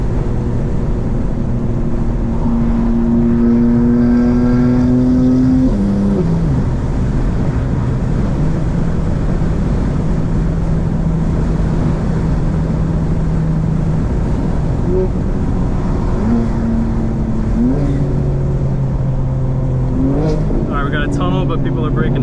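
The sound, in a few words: BMW M4 car engine accelerating and revving while driving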